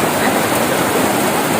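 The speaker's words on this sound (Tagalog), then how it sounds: "Na ang ulan walay undang." Heavy typhoon rain pours down in Misamis Oriental as a dense, steady, loud hiss of falling water that fills the whole stretch without a break.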